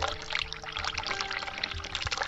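Cold water runs from a sink tap in the video game The Cat Lady, a continuous close rushing pour with a faint low hum beneath, steady throughout and with no talk.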